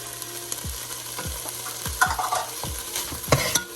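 Peppers going into a pot of BBQ chicken chili on medium heat, giving a steady sizzle broken by several scraping stirs and light clatters at close range, with no talking.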